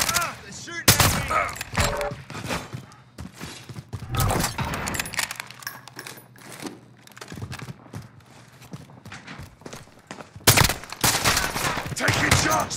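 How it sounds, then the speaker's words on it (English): Call of Duty: Modern Warfare multiplayer gunfire comes in sharp, loud bursts of rapid shots, separated by quieter stretches of movement and rattling gear, with a heavy volley near the end. No one speaks. "They're shooting at me."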